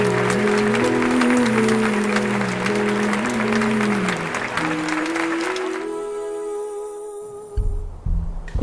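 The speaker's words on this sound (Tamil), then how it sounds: "அவங்க எல்லாருமே ஒரு நிமிஷம் எந்திரிச்சு நின்று அவங்களுக்காக கிளாப் பண்ண சொல்லுங்கள்" An audience stands and claps together at a Tamil bank-exam achiever event, a dense, steady wave of applause under a sustained musical tone that fades out.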